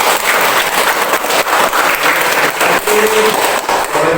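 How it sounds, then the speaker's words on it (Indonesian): Applause from an audience at a school event, loud, close clapping that swells in bursts and continues without speech through the whole stretch. "Boleh minta tepuk tangan untuk kalian."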